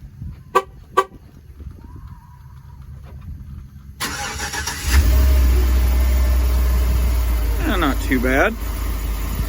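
A GMC Yukon starts cold in snowy, below-freezing weather: a cranking start followed by a loud, steady, droning high idle that runs continuously, with a person speaking briefly over it.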